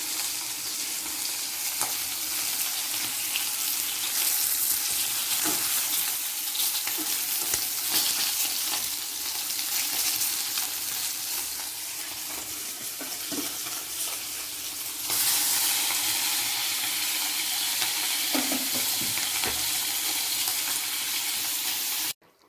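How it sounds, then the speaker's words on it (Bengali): Fish frying in a pan in a home kitchen, a steady loud sizzle that runs unbroken for the whole stretch with scattered pops and spatters, growing a little brighter partway through; no voices. "এখানে মাছ ভাজা হচ্ছে"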